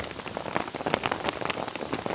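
Hail comes down outdoors during a pike fishing trip, a dense patter of small hard hits landing on a bag and the ground nearby, irregular and continuous.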